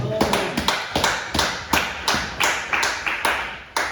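Church congregation clapping to acclaim the word of the Lord, a loud, steady rhythmic beat of many hands striking together about three times per second, close and continuous.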